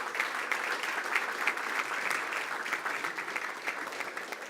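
An audience at a school district board meeting applauds a championship baseball team, steady dense clapping from a room full of people, moderately distant and sustained without a break.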